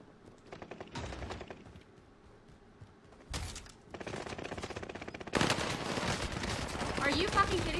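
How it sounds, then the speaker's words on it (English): Rapid automatic fire from an MP40 submachine gun in a video game, arriving in loud bursts with sustained crackling fire toward the end. "I think that was an MP40."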